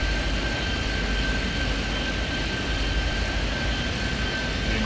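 An airplane takes off in the video game Airport Madness 3D at JFK, a steady, dense engine roar holding level throughout with a faint high whine on top.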